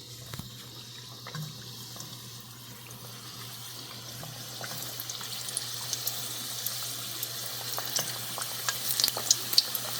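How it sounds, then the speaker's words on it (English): Vegetable samosas with flaky pastry wraps deep frying in hot oil, a continuous soft bubbling sizzle with small pops and crackles that grows slightly busier toward the end, fairly quiet and without talk. "now it's the time for me to deep fry the samosas"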